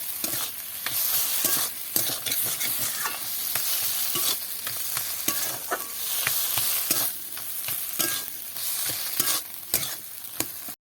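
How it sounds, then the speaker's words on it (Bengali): A spoon stirs and mashes pointed gourd bhorta with fresh coriander leaves in a pan, giving repeated irregular scraping and squishing strokes with a faint sizzle underneath and no talking. "ধনে পাতাটা দিয়ে এটা একসাথে মিশিয়ে নেব"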